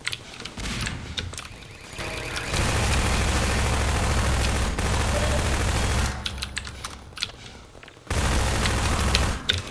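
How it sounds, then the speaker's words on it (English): In Half-Life 2, a kitchen gas explosion erupts as a loud, roaring burst that sustains for several seconds, followed by clattering debris and a second heavy blast near the end. "all video game kitchens must feature a gas explosion"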